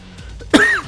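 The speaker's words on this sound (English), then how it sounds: "Ow, my cough." A single sharp cough from a game character in Spider-Man 2 on PS2, loud and close, following quieter background game sounds.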